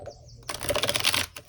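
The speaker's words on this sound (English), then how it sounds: "we'll do one last shuffle here" A tarot card deck is shuffled in a quick riffling burst, a crisp flutter of cards snapping together for about a second after a brief quiet pause, close and clear with no talking.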